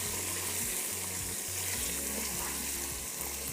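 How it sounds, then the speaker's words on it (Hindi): Beef and spices sizzle and fry steadily in a karahi, a dense continuous hiss with low stirring scrapes throughout, close and fairly loud, with no voices. "कि बीफ भी अच्छे से भुन जाए और मसाले भी भुन जाए।"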